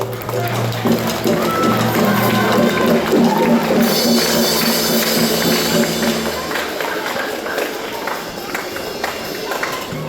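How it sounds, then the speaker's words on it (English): At a first band concert, students applaud their parents in a large hall. A thick, roaring crowd of clapping runs throughout, with voices and some tonal sound mixed in at first, and the clapping thins slightly toward the end. "So students, give your parents a round of applause"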